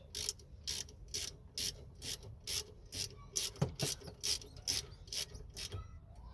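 Ratchet tightening a Torx bolt on the brakes of a Ford Fiesta Mk6, a steady run of about fifteen crisp clicking bursts, close and fairly loud, with a brief scrape in the middle.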